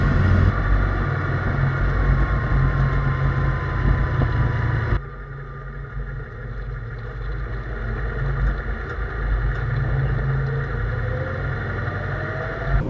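A solid-axle-swapped Dodge Dakota truck drives along with a steady low engine and road rumble, loud and continuous, dipping briefly then resuming its even drone.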